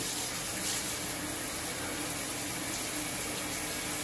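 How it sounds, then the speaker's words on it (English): Steady rushing water pours continuously into a shower pan, a constant close splashing hiss with no pauses. "filling up the pan with some water"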